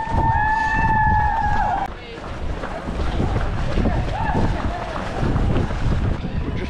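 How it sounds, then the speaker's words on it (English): Strong gusty wind buffets the microphone with low rumbling during the Sheffield Half Marathon, after a brief whistling tone at the start. "So windy."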